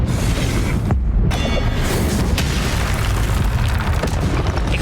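A Confringo fire blast spell from Hogwarts Legacy erupts into a loud, continuous explosive roar, with a deep rumbling boom and crackling bursts that fill the whole stretch.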